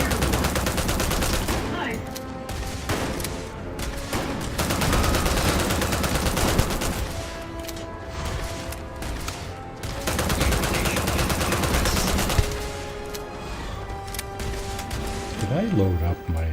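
Sustained microgun fire in the sci-fi video game Starfield, a dense, loud and continuous roar of rapid shots with brief pauses, layered with game effects and occasional crash-like impacts.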